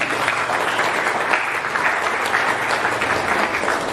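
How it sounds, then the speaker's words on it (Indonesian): Sustained applause from a school debate audience in Tarakan during a final round for third place, a dense, steady clapping wash holding at even loudness throughout. "Kita beri tepuk tangan."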